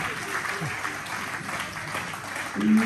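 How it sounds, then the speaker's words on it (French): An audience in a village hall applauds, a moderate, even patter of many hands clapping at middle distance, with a voice rising briefly near the end. "Alors pour Zako, quand même beaucoup d'applaudissements"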